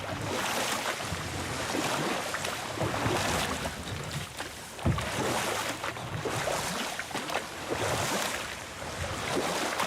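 A rowboat glides across open water in the video game God of War, with soft oar splashes and lapping waves over a steady wind-like wash, moderately quiet and continuous, no voices.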